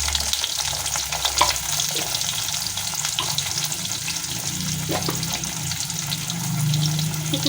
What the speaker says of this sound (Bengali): ভালো করে নেড়ে চেড়ে লাল লাল করে আলুগুলো ভেজে নেব ঢাকা দিয়ে।